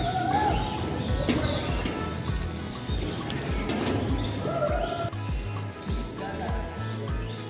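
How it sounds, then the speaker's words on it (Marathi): Many birds call at a jungle safari park, with cooing pigeon- or dove-like notes and scattered chirps layered over steady outdoor background, fairly close and continuous with no talk. "तिथे भरपूरसे पक्षी आहेत."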